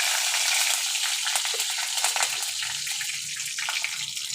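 Black mustard seeds, dried red chilli and curry leaves fry in hot oil as a tempering for sambar dal, making a bright, crackling sizzle with a few sharp pops, close and steady, with no voices.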